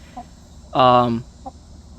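Chickens clucking close by, one loud drawn-out cluck in the middle framed by softer short clucks before and after, in a backyard flock.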